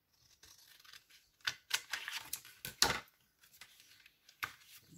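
Paper card frames being cut out by hand, with scattered short crisp snips and rustles of paper, close and fairly quiet, in irregular bursts.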